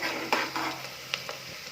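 Onions fry in oil and ghee for a kushka rice dish, giving a soft, steady sizzle broken by a few light scraping stirs of a utensil against the pan, close and fairly quiet with no talk.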